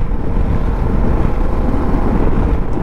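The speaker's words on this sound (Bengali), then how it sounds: "দেখো গাড়ি মোটামুটি এখন আমি জোরেই চালাচ্ছি, প্রায় এখন তোমার 60-65 গাড়ি চালাচ্ছি" Motorcycle ridden fast at about 60-65 km/h along the Belgharia Expressway, picked up by a helmet-mounted GoPro Hero 10: a loud, steady roar of wind buffeting mixed with low engine rumble, continuous and close, with no talking.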